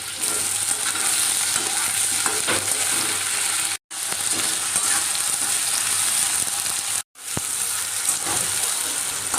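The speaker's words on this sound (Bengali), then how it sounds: "দেখো বন্ধুরা, তেল গরম করে আলু দিয়ে দিয়েছি।" Salted potatoes frying in hot oil in a pan, a loud, steady close sizzle with occasional stirring scrapes, twice cut off abruptly by brief silent gaps.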